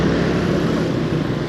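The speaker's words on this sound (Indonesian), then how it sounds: "Motor depan berisik banget." A noisy motorcycle riding just ahead on a city road at night, its engine a steady, close, rumbling drone heard from another motorbike, with no pauses and no talk.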